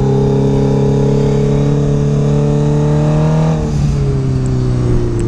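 Honda CBR 600F motorcycle engine droning steadily while riding, a loud continuous harmonic hum that shifts pitch slightly partway through, close and alone without talk.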